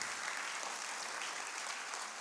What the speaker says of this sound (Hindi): आपकी तालियां कमजोर हैं उस नौजवान के लिए।